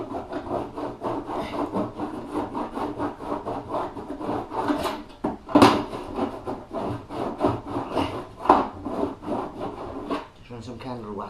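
A sticky, rusty hand saw works through wood indoors during a front room refurbishment, with a steady run of rasping back-and-forth strokes and uneven rhythm, fairly close and moderately quiet.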